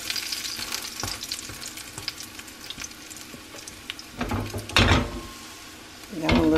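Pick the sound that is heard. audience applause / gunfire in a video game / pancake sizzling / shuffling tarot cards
pancake sizzling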